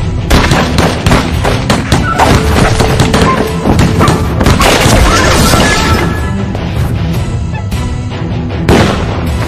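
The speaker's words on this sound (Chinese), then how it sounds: "开枪！" Dense, loud gunfire from a Chinese period action drama about imperial guards, a sustained volley of rapid shots and crashing impacts that eases slightly near the end.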